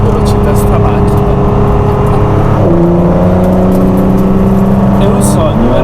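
A Ford GT's engine screams at high speed on a racing circuit, a loud, sustained whine that shifts pitch mid-way as the car upshifts and keeps pulling, with someone talking over it.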